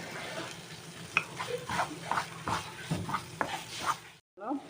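Goan mole masala roasts in a pan while being stirred, a soft sizzle under repeated rhythmic scrapes and taps of a spoon against the pan, ending abruptly with a brief pause and faint noise.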